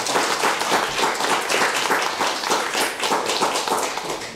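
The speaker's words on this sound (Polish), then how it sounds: "Te oklaski to tytułem takiej radości naszej ogólnej." Audience applause at a public discussion event, dense and steady clapping from a crowd filling the room for several seconds, even in loudness with no speech over it.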